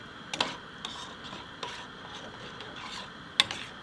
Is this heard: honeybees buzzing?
no